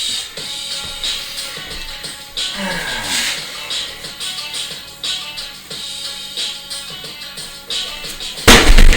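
Kicks land during a one-on-one training session, giving a series of sharp, punchy impacts at an irregular pace with one louder strike near the end. People talk throughout.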